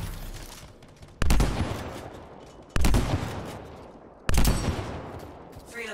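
Gunfire in the game Anthem comes as three separate heavy bursts a little over a second apart, each a loud blast that fades into a rumbling tail.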